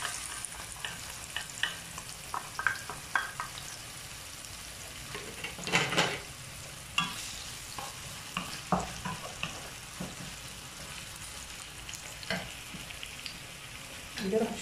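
Onion frying in oil in a pan, with a soft continuous sizzle and scattered scraping and stirring clicks, fairly quiet and close.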